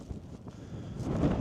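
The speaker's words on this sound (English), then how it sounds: "And it's a bit windy." Wind gusts across cliffs on the southern English coast in January, a low rumbling buffet against the microphone that builds louder toward the end, with no talk.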